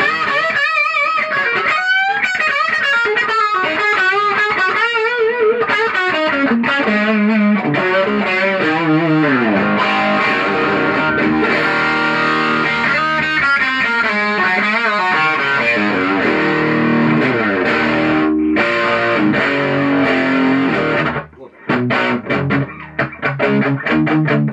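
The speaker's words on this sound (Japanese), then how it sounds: "メタルとか歪ませると合う。" A Fernandes MG-340 electric guitar plays through heavy distortion suited to metal, loud and continuous with chords and riffs ringing for over twenty seconds before breaking into short choppy stabs near the end.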